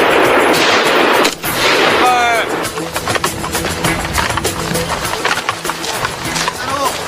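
Rifle gunfire during military shooting practice at a firing range, a rapid series of sharp, loud shots cracking in quick succession, some overlapping, with voices heard briefly among them.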